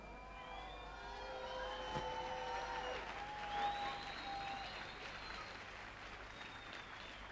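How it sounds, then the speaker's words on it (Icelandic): Moderate clapping from a school song-contest audience in Iceland, 1990, applauding all fourteen contest songs at once, a steady even wash of hands heard at a distance with whistles and voices faintly over it. "það á vel við að klappa duglega því að nú eru þið að klappa fyrir öllum lögunum"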